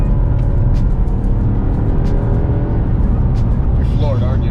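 McLaren 720S sports car driving hard at full throttle on a winter road, a loud continuous engine roar heard from inside the cabin with steady road noise and a voice speaking briefly over it.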